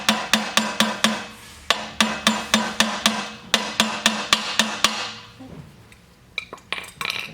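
Sharp metallic hammer taps drive a steel roll pin into a handle axle to lock it during a handle return spring replacement, a steady rapid series of loud ringing strikes, then a few scattered clinks.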